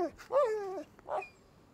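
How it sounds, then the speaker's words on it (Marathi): A dog whimpers with a rising, strained whine and then lets out a short, soft yelp, close by and otherwise alone against a quiet background. "hello mister doggy"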